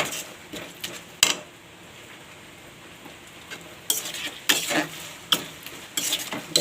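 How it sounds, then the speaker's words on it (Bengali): Loitta fish is stirred and fried dry in spiced masala in a pan. A soft sizzle runs underneath while sharp clinks and scrapes of the utensil against the pan come in clusters, more often toward the end. "লটিয়া মাছগুলো সব এতে দিয়ে দিয়েছি। এবার ভালো করে এটাকে নেড়ে চেড়ে একদম শুকনো শুকনো"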